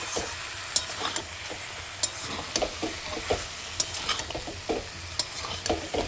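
Bottle gourd and potato pieces sauté in a pan over a continuous sizzle, with repeated sharp spatula scrapes and taps at an uneven rhythm.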